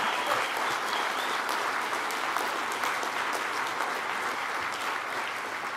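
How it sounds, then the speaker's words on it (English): Audience applause at a college commencement ceremony follows a poetry reading, a broad continuous wash of clapping in a large space that holds steady throughout. "Give poetry a round of applause for poetry."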